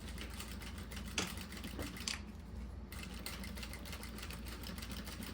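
A sewing machine stitches the lining of a small fabric zip pouch with a fast, even needle patter that stops briefly partway through and then resumes, close and fairly quiet.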